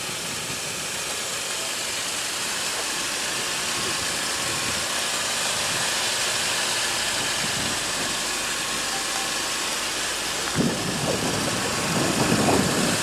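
Turbocharged 2.0 L four-cylinder engine of a 2016 Volkswagen Golf GTI heard under a steady broadband hiss, with a sudden start-up surge near the end settling into a low idle.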